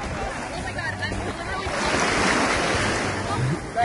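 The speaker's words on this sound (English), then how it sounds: "I'm walking on the 7 Mile Beach. The water's really nice." Ocean waves wash onto Seven Mile Beach in the Cayman Islands under overcast skies, swelling into a louder surge midway before easing, with some wind buffeting the microphone.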